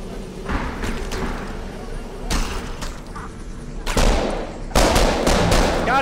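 Repeated gunshots in the S.O.S. island survival game, several sharp bursts of rapid fire cracking in over steady background noise while players shout to one another.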